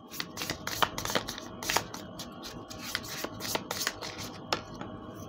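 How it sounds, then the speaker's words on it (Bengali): Tarot cards shuffled and handled during a reading, with dense rapid riffling and rubbing bursts close by, alone without speech. "ফার্স্ট আমি 3টে কার্ড আগে নিয়ে নেব"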